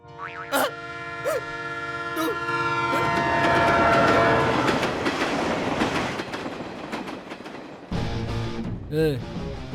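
A train passes close by in a Hindi-dubbed South Indian action film scene, a loud rumbling wash of wheels and carriages with horn-like tonal blasts at the start, then an abrupt cut near the end.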